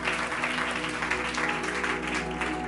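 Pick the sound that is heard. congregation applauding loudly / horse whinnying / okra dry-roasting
congregation applauding loudly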